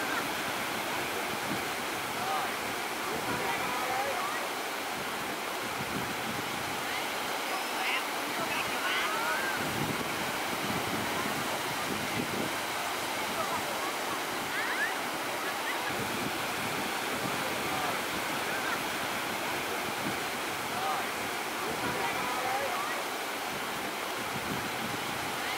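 Sea waves wash continuously onto Vũng Tàu beach in a steady broadband roar, mixed with wind buffeting the microphone. There are no distinct voices.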